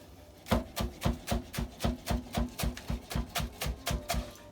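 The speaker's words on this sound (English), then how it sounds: "we're just gonna chop up some green onion" Green onion is chopped with a knife on a board in a home kitchen, a quick, even run of about fifteen crisp thuds, close and fairly quiet, with no talking over it.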